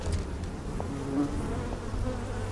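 Bees buzz in a steady, close drone from a scene in the science-fiction TV series The Peripheral, with a continuous hum holding through and no talking.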